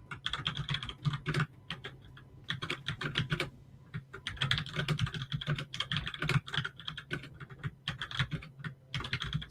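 Someone types quickly on a computer keyboard, close and clear, with rapid bursts of key clicks broken by brief pauses and no talking.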